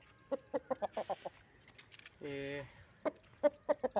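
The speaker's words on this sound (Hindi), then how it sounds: "ये मुर्गा मैं दिखाता हूँ आपको, माशाल्लाह बहुत अच्छी नस्ल का मुर्गा है" A rooster clucks nearby in short, repeated bursts, with a brief drawn-out call in the middle and a single spoken word.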